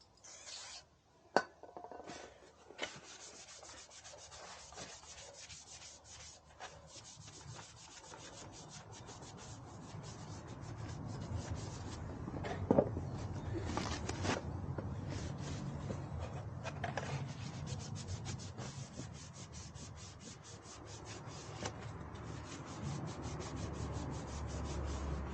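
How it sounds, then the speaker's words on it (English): Slow, repeated rubbing and scrubbing of a cloth wiping grease off a plastic part of a Honda NC750X motorcycle, growing louder and steadier over time with occasional small taps. "I'm going to clean the back of this as well"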